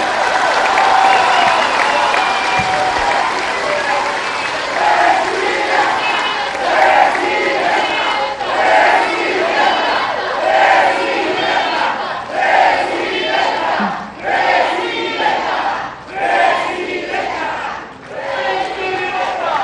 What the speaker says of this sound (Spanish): le den un gran aplauso para que ella sienta nuestro cariño